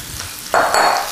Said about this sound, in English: I'm just going to go ahead and drop this into my nice hot pan here